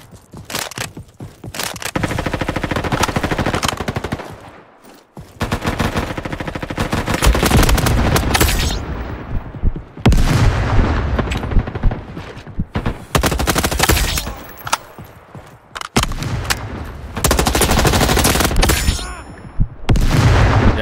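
Rapid automatic gunfire in a shooter video game, dense loud bursts and sustained volleys across the whole stretch with short gaps between strings of shots, and no talking over them.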